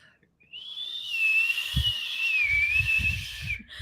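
A voice whistles in imitation of wind on a windy night: a steady, wavering high tone that swells and bends for about three seconds, with a few low thumps underneath.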